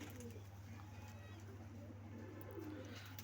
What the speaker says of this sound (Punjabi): ਆ ਵੀ ਆਪਣਾ ਵੱਡਾ ਕਬੂਤਰ ਆ ਬਾਈ